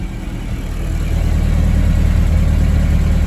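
First-generation Toyota 4Runner idling through a freshly welded homemade exhaust, a steady low rumbling drone that rises a little in level after the first second and then holds even, close by.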